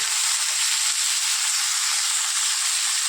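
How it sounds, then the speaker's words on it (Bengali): Mixed vegetables for a small-fish chorchori sizzle in hot oil in a pan, a steady bright crackle that stays close and even throughout, with no talking. "এবার সবজিটাকে ঢেলে দেবো সবজিটাকে ভালো করে ভেজে নেব যাতে কাঁচা গন্ধটা না থাকে"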